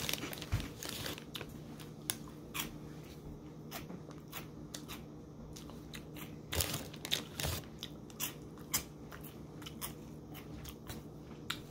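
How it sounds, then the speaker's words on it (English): A Remy's Honey Grams snack, salted and containing peanuts, is bitten and chewed up close, with repeated crisp crunches and crackles over about twelve seconds and a few louder bites in the middle. "All right, let's give it a try."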